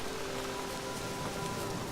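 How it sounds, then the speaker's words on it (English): Steady rain pours in the video game Witcher 3, a continuous soft hiss of drops on surfaces with no voices. "Looks like rain."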